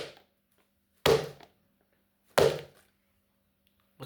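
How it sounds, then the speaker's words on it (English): A shoe banged against a hard surface: three separate loud thuds spaced roughly a second and a half apart, each sharp at the start and dying quickly, close with silence between and no talking. "What's this called? Shoe banging."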